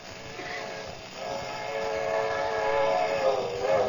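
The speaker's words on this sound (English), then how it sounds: "There's a train coming." A steam-era train rumbles closer while its whistle sounds, staged as a sound effect in a 1941 radio comedy, heard thin and muffled with rising loudness.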